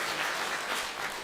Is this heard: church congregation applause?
yes